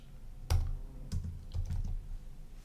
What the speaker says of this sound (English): you're basically going to go over here and type in hi-hats under the search